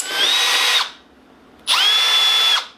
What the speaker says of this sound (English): Found a drill.